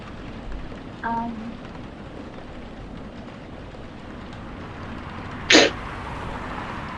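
A single sharp sneeze bursts out near the end over steady background hiss, after a faint brief sound earlier.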